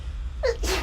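One quick human sneeze, a sharp inhaled catch followed by a burst, close and fairly loud over a low background hum.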